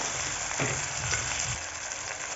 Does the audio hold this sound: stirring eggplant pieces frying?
yes